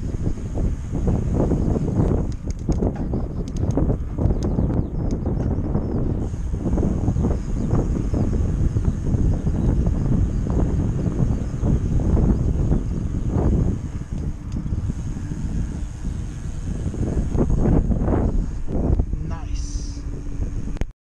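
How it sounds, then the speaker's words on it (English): Wind rumbles against the microphone throughout, a low continuous blustering under a person talking nearby. "It's a bit windy still"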